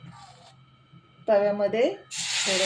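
Rice flour batter hits a hot griddle and bursts into a loud, steady sizzling hiss near the end, after a stretch of speech.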